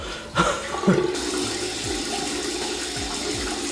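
Running water pours steadily while face cleanser is rinsed off, a close, continuous rush broken by a few splashes near the start, with no speech.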